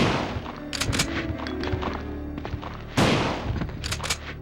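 Gunshots fired at zombies in the PlayStation version of Resident Evil 2, sharp close reports in an uneven sequence over a low ambient game backdrop, with one heavier blast near the end.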